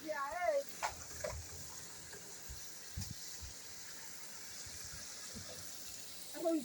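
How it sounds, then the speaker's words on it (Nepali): Water from a tap runs as a soft, steady gushing hiss at low volume, with brief voices talking over it at the start and end. "धारा ये हेर्नुहोस्"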